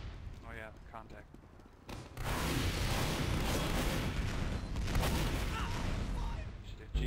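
Grenade explosions go off in a multiplayer video game tournament match, a sudden heavy blast that rolls into a sustained, loud rumble. Players talk over it in the same moment.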